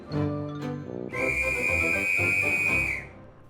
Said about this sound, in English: You'll need that whistle to blow and open the golden egg.